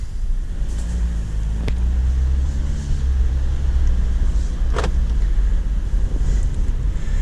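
A 2019 Jeep Wrangler in two-wheel drive rolls along a rough dirt back road with a constant low rumble and wind noise. A couple of sharp thumps or rattles stand out, and nobody speaks.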